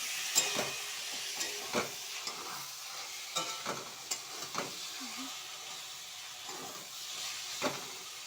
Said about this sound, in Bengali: একসাথে দুটোই ফ্রাই হবে, মাছের তেলটা দিয়ে দিলাম